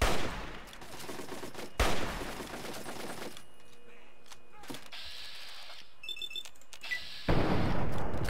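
Gunfire in the video game Fallout 3: loud bursts of rapid shots open and close the stretch, separated by quieter game ambience with faint clicks and mechanical tones.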